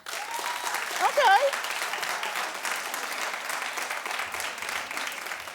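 Studio audience applause from a talk-show crowd fills the whole clip, a steady dense wash of clapping with a brief spoken word near the start.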